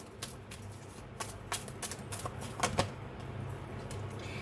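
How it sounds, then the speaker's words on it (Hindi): Tarot cards are drawn from a deck, giving light, scattered papery flicks and taps at an irregular rhythm over a low steady hum. The sounds are close and moderately quiet, with no voices. "मैं और कार्ड्स निकालती हूँ आपके लिए।"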